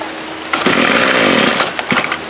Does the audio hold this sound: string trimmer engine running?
yes